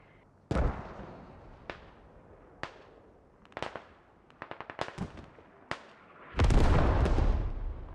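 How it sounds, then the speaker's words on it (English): Artillery shells explode in the military shooter Squad, a run of sharp blasts and crackling impacts, some near and some farther off, ending in a long heavy roaring barrage. "Artillery coming in."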